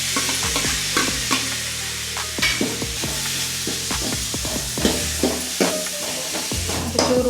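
Dry prawn masala with tomato fries in a pan, a close sizzle under frequent sharp clacks and scrapes of a spoon stirring against the pan, without talk.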